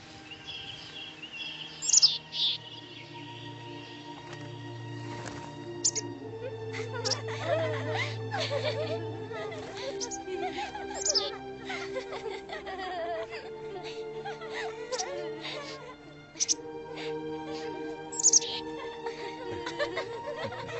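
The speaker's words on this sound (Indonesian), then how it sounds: "Burung-burung." Birds chirp and sing in a story about the Prophet Sulaiman, with bright calls scattered through the clip over a sustained musical drone and a voice partly beneath them.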